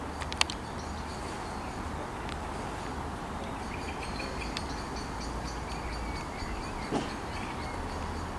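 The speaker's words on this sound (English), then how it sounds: "approaching now is a terminating West Midlands Railway service from Stratford-upon-Avon here at Stourbridge Junction" A West Midlands Railway passenger train pulls into Stourbridge Junction, heard as a steady rumbling roll of wheels on track with occasional metallic clicks and a faint chirp or two, continuous and moderately loud.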